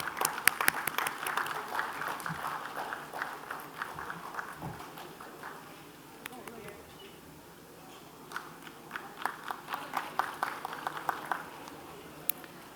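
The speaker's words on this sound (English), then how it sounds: "Can we have a big round of applause, please?" An audience at an award presentation during a stock market technology conference in Ahmedabad claps in scattered bursts, the applause swelling, dipping to a quieter lull midway, then rising again in sharper individual claps.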